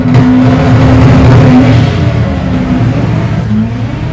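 A front-wheel-drive Honda Civic drag car launches hard down the strip at Santa Pod, its engine roaring loud and steady with a rising rev note, close and sustained throughout with no voices.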